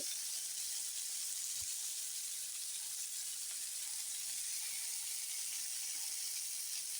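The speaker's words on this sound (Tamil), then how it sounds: "அந்த பக்கமும் ஒரு 3 நிமிஷம் சிம்மில் வச்சு வேக வச்சு எடுத்தால் நமக்கு நல்ல ஸ்பைசியான பெப்பர் ஃபிஷ் ஃப்ரை ரெடி ஆயிட்டு" Spicy pepper fish frying in a pan on low heat, a soft continuous sizzle and hiss with no speech, fairly faint and even throughout.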